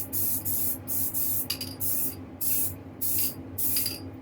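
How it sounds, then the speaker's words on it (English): An aerosol can sprays black paint onto a statue in about seven short, loud hissing bursts with brief gaps between them. "I'm gonna spray it, 2 or 3 coats of the black until I get this covered all the way"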